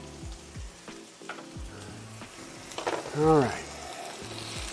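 Onions sauté in a pan for a beef coconut curry, giving a steady close sizzle and frying hiss with scraping stir strokes at regular intervals, while a voice speaks briefly.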